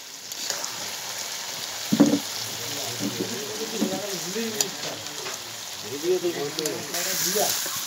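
Country chicken meat sautés in hot oil in a pan, giving a steady, close sizzle with occasional stirring scrapes, while someone talks over the cooking.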